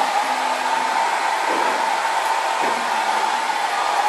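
A hair dryer runs loud and steady at close range for the whole stretch, a continuous whirring roar with no breaks, heard in a museum workshop setting.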